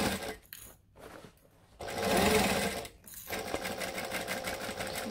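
A sewing machine runs close and steady, stitching a half-inch seam with a back stitch on a bag, its motor whirring in short starts and stops before a longer continuous run.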